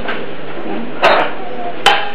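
A pot of stewing meat is set back on a stove, giving two sharp metallic knocks against the burner over a quiet kitchen background.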